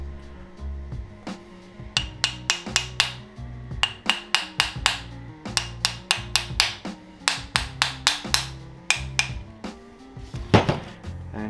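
Hammer tapping gently on bolts to loosen a part during a Volvo V70R five-cylinder engine build with forged pistons, a steady series of close, sharp metallic strikes in quick rhythmic groups with brief pauses between them.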